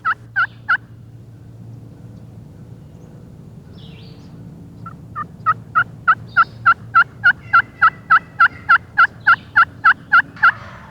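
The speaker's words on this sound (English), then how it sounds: "Notice how cautious this gobbler is" A wild turkey gobbler gobbles loudly in a fast, rhythmic string of calls, three short bursts first, then a long steady series after a brief pause, in spring.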